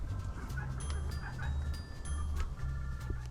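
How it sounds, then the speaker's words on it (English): Little chickens at a campsite in General Coffee State Park cluck softly in short, repeated low bursts close by, with faint outdoor ambience and no talking. "Little chickens."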